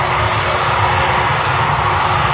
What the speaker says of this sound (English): The engine sound here, absolutely crazy.